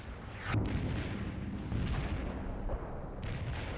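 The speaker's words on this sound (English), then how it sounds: "Mortars will fire at the provided coordinates." Mortar artillery fire in the video game World in Conflict, heavy muffled booms and rumbling blasts overlapping in a dense, continuous low roar.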